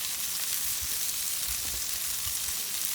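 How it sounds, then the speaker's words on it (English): Bacon sizzles and fries in a pan as it browns while being basted with a birch syrup barbecue sauce, a steady close crackle with soft low thumps of stirring or basting. "the bacon is starting to brown up. So what we'll do is we'll baste it now with the barbecue sauce that we made"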